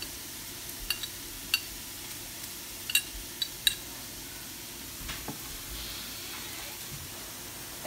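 Spices, salt, pepper and chilli being stirred into a tuna filling for roti, a soft scraping with scattered light spoon taps against the bowl, fairly quiet and without talk.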